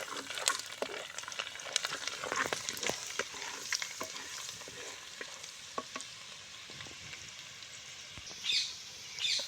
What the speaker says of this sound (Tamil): இப்போ கட் பண்ணி வச்ச பூண்டு போட்டுக்கலாம் பூண்டு நல்லா வேகட்டும்